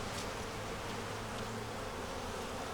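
Honey bees swarm over hive frames in a dense, steady buzz that fills the whole stretch, close and unbroken, with no voices over it.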